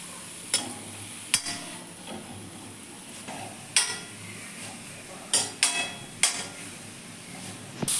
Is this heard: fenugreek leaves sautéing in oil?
yes